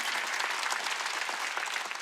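Church congregation at a Wednesday worship service clapping hands together, a dense, steady patter of many hands, moderately distant and continuous throughout.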